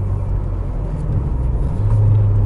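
Cabin noise inside a Ford Escort RS Cosworth on the move with little soundproofing: a loud, steady low engine and road drone that swells slightly toward the end, with no one talking.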